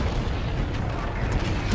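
A turret is destroyed by an explosion in the video game Call of Duty: Infinite Warfare, heard as a dense, continuous roar of blast and crunching mechanical debris filling the short stretch at steady loudness.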